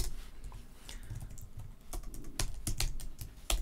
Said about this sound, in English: So to do that, you need to type like this.